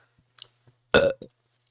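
A single loud, close burp lasting a fraction of a second, followed by a shorter gulping sound and faint mouth noises in otherwise quiet surroundings.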